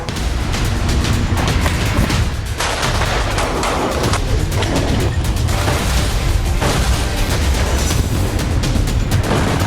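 Israeli airstrikes and missile explosions in Lebanon, around Dahiyeh: a continuous loud roar of blasts and heavy booming thuds, dense and unbroken, with no talk.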